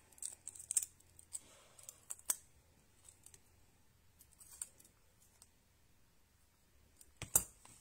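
Scissors snipping paper while making a Stampin' Up autumn card, a few faint, sparse cuts spread through a quiet room with a sharper snip near the end.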